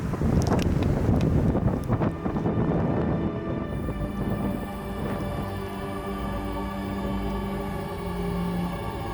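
Strong wind gusts across a sandy desert in Poland, buffeting the microphone with loud, rumbling roars that ease slightly after a few seconds and then keep blowing steadily.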